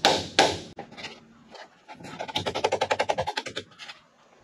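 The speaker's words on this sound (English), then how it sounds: "I think we need a little hammering" A hammer strikes a ball joint on a 2004 Dodge Ram 2500 truck: a few loud metallic blows, then a quick, steady run of about a dozen close, rhythmic strikes.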